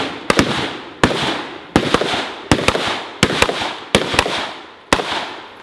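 Rapid gunfire at a tactical shooting competition: a loud, close string of about a dozen sharp shots, some in quick doubles, spaced under a second apart, each with a short echoing tail.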